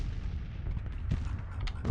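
Cannon artillery fire in the Civil War strategy game Grand Tactician, a continuous low rumbling barrage with a few sharper distant booms rising out of it, no speech.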